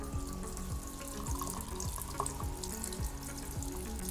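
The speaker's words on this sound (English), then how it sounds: "Go ahead and run some water through the rotors." Tap water runs steadily over hair clipper rotors at a sink, a soft continuous splash with faint repeated knocks as the parts are rinsed.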